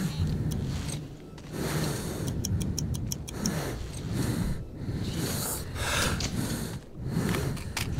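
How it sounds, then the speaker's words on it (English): Heavy, labored breathing from the Metro 2033 game, slow rasping inhales and exhales repeating up close, with faint ticking clicks running alongside. "Breathing like a neckbeard over here."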